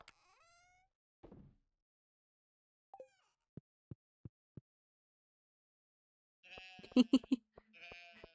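Farming video game sheep bleating in two short, close bursts, preceded by sparse soft clicks and a run of evenly spaced taps in an otherwise silent stretch.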